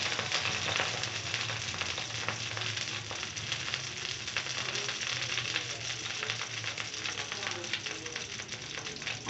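Chopped green chillies fry in a pan with a continuous, even sizzle and crackle, close and moderately quiet, with no voices over it.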